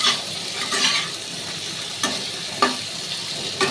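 Mango chutney set on to cook in a freshly scrubbed pan, with a steady sizzle and a few sharp stirring scrapes and clinks close by, no talking.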